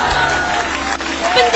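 A congregation at a church testimony service applauds in a loud, continuous crowd roar, the clapping blending with voices throughout the short stretch.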